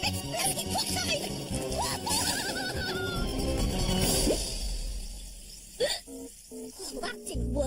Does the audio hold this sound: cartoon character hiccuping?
yes